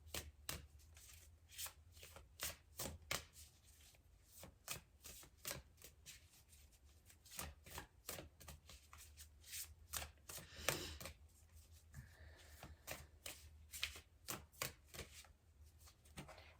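Playing cards shuffled repeatedly, sharp riffling bursts and snaps in an irregular rhythm, close and fairly quiet with no talking.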